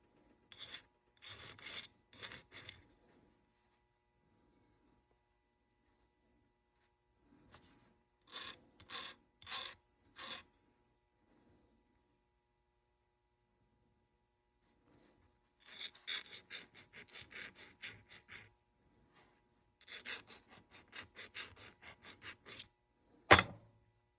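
A handmade fountain pen nib is shaped by hand filing, with bursts of quick, close rasping strokes separated by quiet pauses and a sharp knock at the end.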